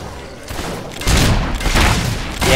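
Gunfire in the video game Fable 3, a dense burst of shots and booms that swells loudly after a quieter start and stays heavy to the end, with no talk over it.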